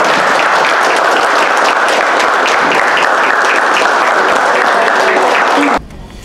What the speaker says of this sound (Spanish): Con un fuerte aplauso vamos a recibir a Francis Ley Bueno